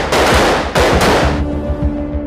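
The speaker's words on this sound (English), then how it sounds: "Recruits spend hours on the firing range." Rapid bursts of gunfire from Secret Service recruits training on a firing range, two loud volleys of close shots with a trailing echo as the last burst fades out.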